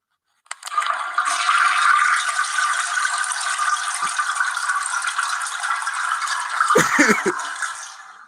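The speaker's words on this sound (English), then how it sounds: "this shit has to be flushed" A toilet flush sound effect plays as one loud, steady rush of draining water for about seven seconds, then gurgles briefly near the end. No one speaks over it.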